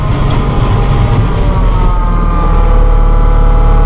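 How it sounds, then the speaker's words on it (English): A Massey Ferguson 1600 series hydrostatic tractor engine with auto throttle works under load while back dragging gravel, a loud, close, steady diesel drone whose pitch rises as the engine speeds up. "You can hear that auto throttle kick in and go to work as we back drag to fluff the gravel up here."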